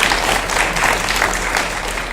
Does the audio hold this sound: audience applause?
yes